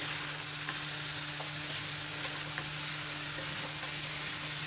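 Nearly half a kilo of jaggery cooks in a pan while being stirred constantly, for a sweet-sour raw-mango gulamba: a steady, even sizzle fills the whole stretch, with faint scattered ticks from the stirring and no voices.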